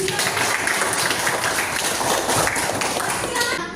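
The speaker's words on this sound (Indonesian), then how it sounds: "Kasih tepuk tangan coba untuk Mas Rizky." Students in a classroom give a round of clapping, a dense, continuous patter of many hands heard up close alongside a voice.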